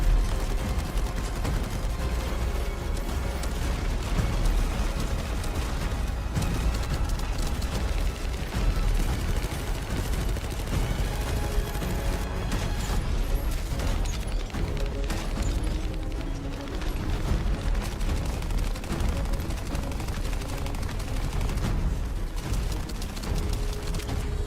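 Dense, continuous gunfire in the video game Torchlight Infinite, with rapid shots and mechanical clatter, loud and steady throughout with no pauses.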